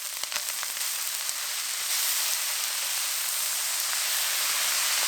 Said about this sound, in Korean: 양배추 넣고 볶아주세요.